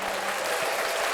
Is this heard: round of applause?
yes